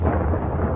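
Thunder from a lightning bolt striking in the skies of Bavaria, a loud, deep, continuous rumble filling the short moment without any voices.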